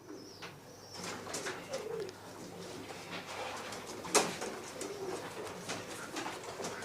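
Show pigeons coo in low, soft repeated calls at close range, with wing flutters and a sharp knock midway, against a faint outdoor background.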